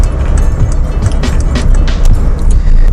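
The engine of a rental Toyota Etios hatchback drones steadily from inside the cabin while overtaking, with a loud low rumble and road noise and some faint rattles over the top.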